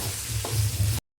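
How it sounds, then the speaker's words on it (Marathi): Puran lentil filling being sautéed in a pan for puran poli gives a brief, close stirring and scraping sound over a low sizzle, lasting about a second with no talk. "तर बघा मी इथं पुरण हे करून घेते, काय बारीकच म्हणते, पुरण परतून घेते"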